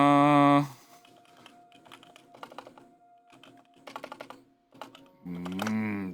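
Bursts of computer keyboard typing come in short, irregular clusters of crisp clicks, fairly close, framed by loud tonal sounds at the start and end and set amid a quiet live-stream background.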